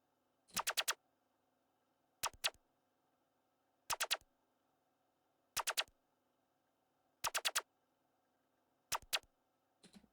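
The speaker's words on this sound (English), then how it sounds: "here we have some lasers" Laser sound effects in an FL Studio beat: short, bright zapping bursts in tight clusters of three or four, repeating at an even pace over a faint steady background hum.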